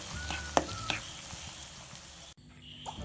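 Chicken with ginger and garlic fries in a pan with a close, bright sizzle and a couple of sharp spits. The sizzle drops abruptly to a fainter hiss near the end.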